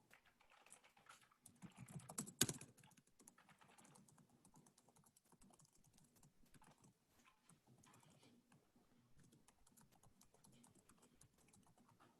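Soft, quick keystrokes on a computer keyboard patter along in irregular bursts, faint and close, with one louder clatter early on before the typing settles into a light, uneven rhythm.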